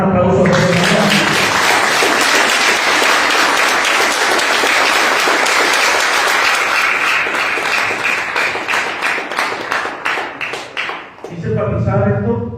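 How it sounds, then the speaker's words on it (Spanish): A church congregation gives loud, sustained applause that fills the room for around eleven seconds, fades, and then gives way to a voice speaking. "denle un aplauso a Dios"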